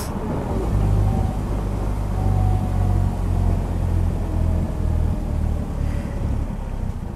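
Polaris Slingshot open three-wheeler with a 2.4-litre engine, driving on a warm day: a steady low engine rumble with wind buffeting and faint rising whine, continuous throughout.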